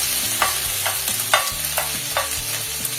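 Ginger, garlic and green chilli sautéing in hot oil for fish cutlet, a steady close sizzle with periodic scraping stirs of a spoon in the pan, no voices.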